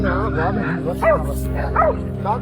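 Hunting dogs bay and yelp at a wild boar on a Florida farm near Clewiston. Two sharp yelps stand out over a steady drone, and someone talks over them.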